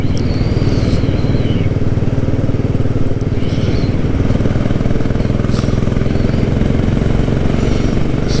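A Royal Enfield Classic 500 motorcycle being ridden, its single engine thumping loud and steady throughout with constant road and wind noise.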